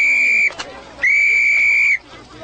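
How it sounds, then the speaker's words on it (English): Two shrill blasts of a sporting whistle hail a cab on a street in a Pygmalion film scene, a short loud blast followed by a longer sustained one, with a brief rustle between. "Well, that ain't a police whistle, it's a sporting whistle."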